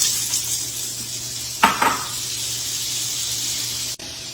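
Four tablespoons of butter dropped into a hot pan with browned garlic, thyme and red pepper flakes, a sudden burst of sizzle that settles into a steady hiss, no talking.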